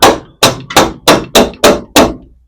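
A makeshift hammer, some object standing in for a real one, strikes seven sharp, evenly spaced blows close up during boat cabin construction, each hit ringing out and decaying before the next.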